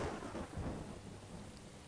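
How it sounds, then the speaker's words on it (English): Rain falls steadily in a Star Wars Galaxies emulator world while low thunder rumbles in the background, soft and distant, with no voices. "it's quite foggy, it's quite rainy"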